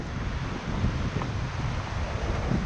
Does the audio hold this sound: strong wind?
yes